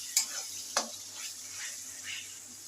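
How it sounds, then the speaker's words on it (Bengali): Onion with ginger garlic paste, turmeric and a splash of water fries softly in a pan, with two sharp spatula scrapes near the start and a faint sizzle continuing underneath, with no talking. "নেড়ে নেব।"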